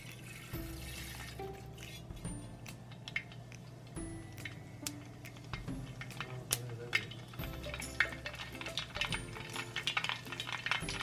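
Mustard seeds crackle and pop in hot oil at the start of a Kerala lemon pickle, a dense stream of small sharp ticks and sizzles that grows busier over time, close up with no voices.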